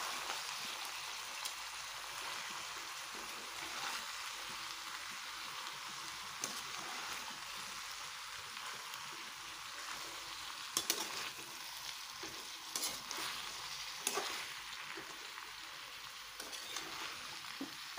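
Mixed vegetables for pasta are stirred in a hot pan, a soft continuous frying hiss with occasional scraping strokes of the spoon, faint and steady, no one speaking.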